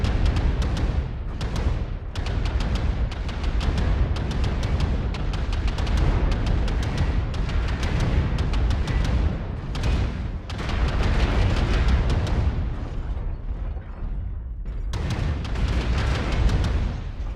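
Clan ballistic weapons in MechWarrior Online fire in dense, rapid bursts of booming shots that go on almost nonstop, loud and close, with only brief pauses between volleys.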